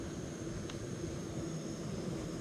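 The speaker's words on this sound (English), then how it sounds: "it looks like we're nearly at a boil." A Jetboil backpacking stove burner heating water toward a boil gives a steady, close, roaring hiss that stays constant for the whole stretch with no talk over it.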